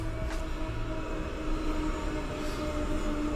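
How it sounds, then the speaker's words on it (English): A train rolls past a studio building, a loud, continuous rumbling roar with rail clatter that fills the whole stretch without letup, and no voices on top. "We have a train going by our studio right now"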